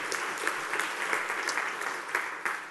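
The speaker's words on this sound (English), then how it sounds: "if I can indulge myself in one more round of applause, forced applause, mind you" An audience at a community gathering claps steadily in a dense, even wash of applause that holds at a moderate level throughout without a break.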